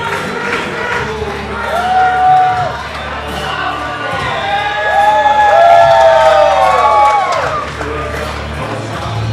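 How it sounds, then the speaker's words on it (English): An excited crowd cheers and whoops around a boxing ring, loud and swelling in waves, with high shouts and voices rising over the roar. "You can hear how excited this crowd is to see Masterson back in the ring after all these years."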